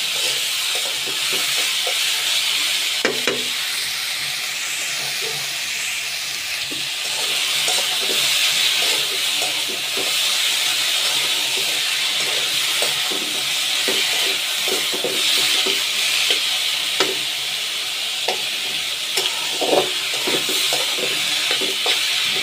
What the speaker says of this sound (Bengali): আলুটা একটু ভেজে নিলে কি হয়, তাতে একটু স্বাদটা ভালো লাগে।